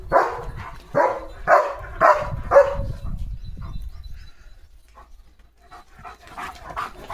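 Leo the dog barks at other people's dogs walking with their cattle: about five sharp, close barks in quick succession, then quieter panting and faint sounds.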